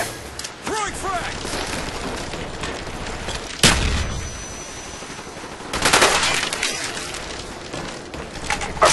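Rapid gunfire and grenade blasts in a Call of Duty: Black Ops capture-the-flag match on the map Summit, a steady loud barrage with two heavier booms standing out.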